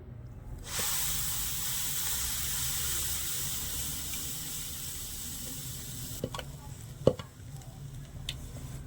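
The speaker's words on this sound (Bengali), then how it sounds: "এই আমের পেস্টটা আমি কড়াইয়ের মধ্যে নিয়ে নেবো" Raw mango paste goes into a hot kadai and sets off a loud, sustained hiss that fades gradually, followed by a few sharp scrapes and knocks against the pan near the end.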